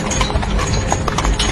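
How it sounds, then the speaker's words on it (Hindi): Horses' hooves clip-clop steadily on a road while pulling a carriage uphill, a continuous, loud, close rhythm of hoofbeats with no voices. "इसलिए घोड़े आराम से चल रहे थे।"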